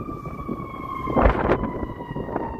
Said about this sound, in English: Here comes sirens.